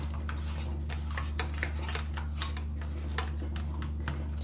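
Pizza dough being mixed by hand in a bowl, giving a steady run of close clinks, taps and scrapes over a constant low hum, with no talking.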